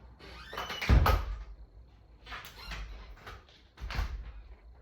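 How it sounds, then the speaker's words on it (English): A door in a home is being closed, with a few soft knocks and scraping bumps spaced through a quiet room, the loudest near the start. "Make sure my door is closed."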